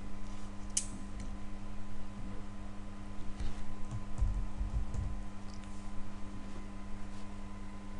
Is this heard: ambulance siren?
no